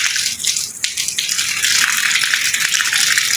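Water gushes steadily from a faucet while washing, a bright, continuous splashing rush at close range with no talk.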